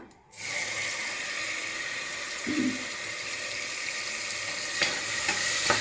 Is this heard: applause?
no